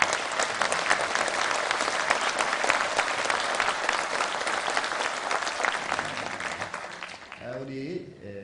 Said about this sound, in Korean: 좀 일어나시면 박수 한번 하겠습니다